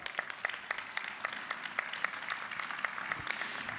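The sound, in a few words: applause from graduation ceremony audience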